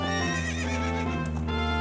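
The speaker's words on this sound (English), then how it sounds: "Nice horse!" Epona, the horse from the video game Ocarina of Time, lets out a loud, sustained neigh that wavers over steady galloping hoofbeats, close and continuous from start to end.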